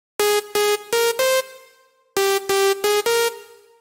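Clicker synth lead preset from the TPS Gravity slap house pack with the attack removed: two short phrases of four bright, stabbing chord notes each, the last of each phrase ringing out and decaying.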